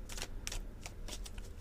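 Tarot cards being shuffled and cut, a quick run of dry riffling flutters in short bursts, close and fairly quiet, with no talking.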